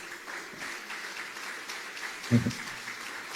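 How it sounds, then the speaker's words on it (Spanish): A seated audience at a literary interview event with a football figure applauds softly and steadily, with a brief louder thump partway through. "a veces hay que dejar aplaudir"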